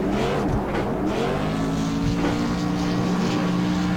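A late model race car in the Fascar sim game does burnouts at Bristol, its engine revving loudly and continuously with rising and falling tones.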